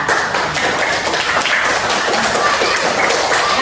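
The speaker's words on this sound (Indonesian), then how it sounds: "Sekali lagi tepuk tangan untuk Lola." Children in an elementary school classroom clap again, a loud, close round of scattered, slightly uneven hand claps with some tapping, kept up steadily throughout.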